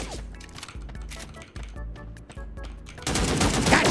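Rapid gunfire in the mobile shooter game Sausage Man, dense bursts of automatic shots crackling close and loud, the shots running together into a heavier, louder volley near the end.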